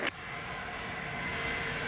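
A Global Jet business jet taking off from runway 07 in Jamaica, a steady, sustained engine roar heard at a distance with a faint high whine running throughout.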